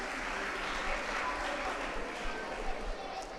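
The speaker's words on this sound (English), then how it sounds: "Please give him a round of applause once again" Steady crowd applause fills a children's public-speaking contest in Gambia, honoring a contestant with dense, even clapping from start to finish at moderate loudness.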